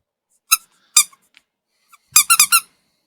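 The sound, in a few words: squeaky Pikachu toy squeaking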